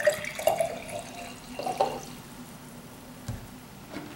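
Vinegar poured into a jar holding an egg for a kitchen science experiment, with soft splashing and trickling in two short bursts followed by faint drips, close and quiet.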